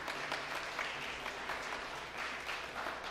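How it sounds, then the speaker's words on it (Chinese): A church congregation claps together to welcome first-time visiting couples during a Sunday worship service, a steady, dense wash of applause lasting throughout, fairly faint and distant, with no voices over it. "拍手拍手欢迎你们来"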